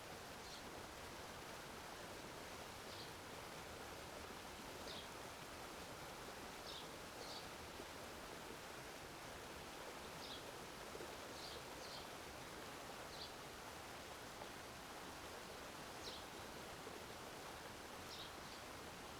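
Steady broadband rush of flowing water outdoors along a peaceful sunny path, continuous and even throughout with no voices, a few faint high ticks over the wash.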